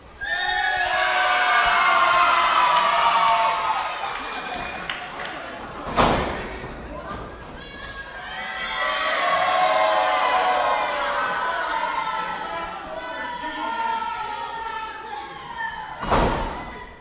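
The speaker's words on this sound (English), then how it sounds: "You're hearing the crowd alternatingly cheer and boo." A live event crowd swells twice into loud mixed cheering and booing as rival teams, the Top Guns and the Rat Pack, are called, each wave punctuated by a heavy thump, with a quieter lull between.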